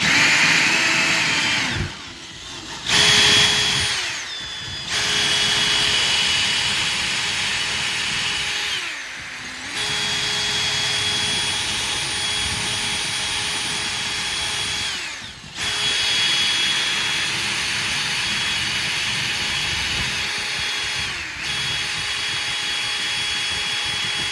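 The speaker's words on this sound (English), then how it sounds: "So we just drill a hole and wiggle the drill about" An electric drill runs loud and close for a long stretch, its whine repeatedly dipping and surging as it bites into wood and briefly slows.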